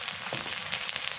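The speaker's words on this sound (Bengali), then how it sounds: "রসুন বাটা, রসুন পেঁয়াজ বাটা একখানে ছিটে দিয়ে দিলাম" Garlic and onion paste sizzles steadily in a hot pan, a continuous close crackling fry with small pops throughout.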